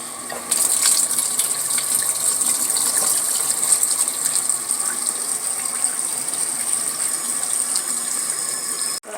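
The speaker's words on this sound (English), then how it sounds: "I can connect the other end of it to here so that I could add water to fill up the tub" Water from a shower hose gushes steadily into the tub of a small apartment washing machine, a continuous bright hiss and splash held close and even for several seconds before cutting off.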